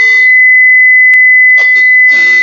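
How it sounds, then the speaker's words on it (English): A steady electronic beep tone generated by a Python program on a computer, a single continuous pitch holding through the whole moment, loud and close, with brief bursts of a voice talking over it near the start and end. "It's a beep"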